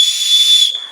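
A handmade whistle carved from wood, blown once in a single loud, steady, piercing tone with an airy hiss that stops sharply just before the end.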